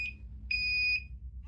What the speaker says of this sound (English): checking the light, checking the LED, checking the buzzer